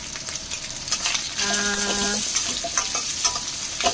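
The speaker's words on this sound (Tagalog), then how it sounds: "Ating pamamantikain yan, guys." Roast goose frying in hot oil in a pan, a loud steady sizzle and bubbling crackle with a brief metallic clink of a utensil partway through.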